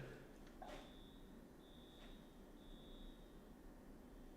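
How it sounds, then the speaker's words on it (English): A neighbor's fire alarm sounds from next door as a faint, distant high-pitched beep, held in about three long tones over steady background noise. "I think the next door neighbor's fire alarm is going off."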